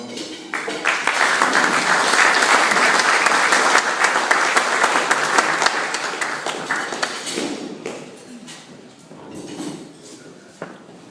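Audience applause welcoming Bronson Horan, a veteran who served his nation and its allies, to the podium: a full room clapping loudly and steadily, then thinning into scattered claps that fade out.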